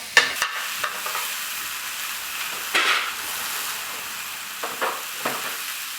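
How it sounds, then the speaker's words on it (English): A soft sizzle of masala paste in a pan, with a few scraping stirs and light clatter breaking through the steady hiss. "That's just sizzling up."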